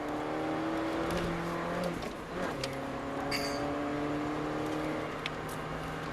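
A car accelerates at full throttle on a track during driving instruction, a steady close engine drone with shifting tones and no voices.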